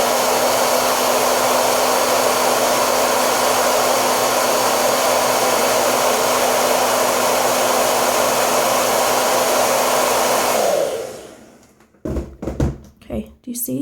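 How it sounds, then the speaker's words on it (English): Hair dryer on its cold setting blows a steady, loud whoosh with a low hum for about eleven seconds, aimed at eyelashes to curl them, then cuts off; brief knocks and handling noises follow. "I take my blow dryer and I put it on cold, okay, and I blow"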